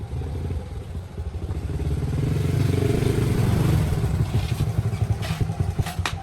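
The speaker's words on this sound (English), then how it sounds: "The sound of a motorbike grew louder" A motorbike engine rumbles and swells louder, peaking midway before easing slightly, with some clattering near the end, intruding on a restaurant where piano music plays.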